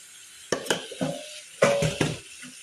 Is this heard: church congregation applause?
no